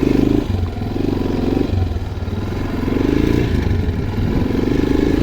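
A Geon Light 250 motorcycle rides through snow in a forest, its engine chugging close and loud, revving in uneven surges as the bike struggles, with some clatter and scraping.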